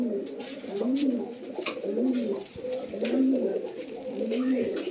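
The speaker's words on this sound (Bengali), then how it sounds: "এই হচ্ছে পাঞ্জা পায়রাটা" Domestic Madrasi flying pigeons coo in a steady, repeating rhythm, several rounded, throaty calls close by and fairly loud, with faint background noise throughout.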